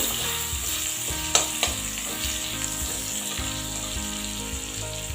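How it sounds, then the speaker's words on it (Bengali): Grated garlic and chopped green chilli frying in hot oil for a shrimp dish, a steady close sizzle with a couple of sharp spatula clinks and stirring scrapes, no voices. "রসুনটা একটু ভেজে নেব"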